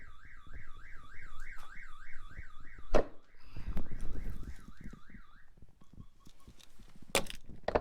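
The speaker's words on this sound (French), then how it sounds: "Voilà pour cette installation d'alarme." A camper van's electronic alarm wails, warbling up and down repeatedly, then stops, followed by clunks, rustling and a couple of sharp knocks nearby.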